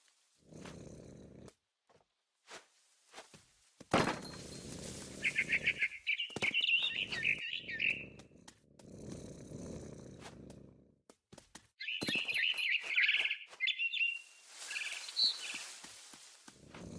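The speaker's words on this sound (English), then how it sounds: "Then I heard chirping outside my window." A barn swallow chirps in the video game What Remains of Edith Finch, in two bright twittering bursts over soft breathy rustling and scattered taps, moderately close.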